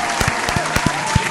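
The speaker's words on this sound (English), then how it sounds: "give some applause to Steven." Applause sound effect during a visual novel game playthrough, a brisk burst of many hands clapping with several sharper individual claps, loud and steady across the short span.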